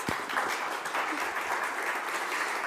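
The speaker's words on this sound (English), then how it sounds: "A warm applause from all of us." An audience applauds the panelists at a European cybersecurity community event, a fairly faint but continuous roomful of clapping heard from a distance.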